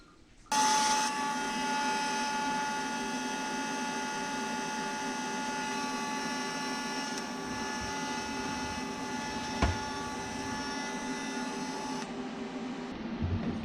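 A power cutter slices down the middle of a foot-long exhaust pipe section for a turbo setup, a loud, sustained whining grind starting abruptly and holding steady for about eleven seconds before cutting off, with one sharp knock partway through.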